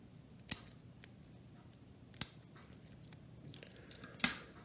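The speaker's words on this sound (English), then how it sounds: "You want to just cut them off." Three separate crisp snips of small scissors cutting biots for fly tying, close and quiet, with faint handling ticks between the cuts.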